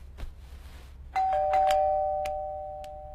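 A home doorbell rings with a bright electronic ding-dong whose tones ring on and fade slowly, after a few soft knocks and thuds in a quiet room.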